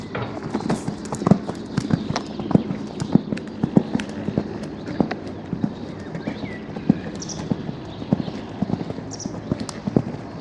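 A horse galloping during a show jumping session in an arena, its hoofbeats landing in a quick, regular three-beat rhythm at moderate distance, with steady thuds that carry on throughout and no speech.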